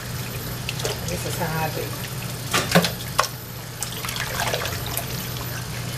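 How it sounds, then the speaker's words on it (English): Water runs and trickles steadily while chitterlings are washed and rubbed by hand, with occasional splashes and clatter close by, under a person talking. "you're going to continue to wash until your water is clear"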